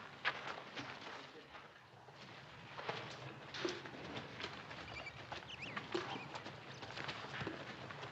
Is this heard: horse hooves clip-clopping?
yes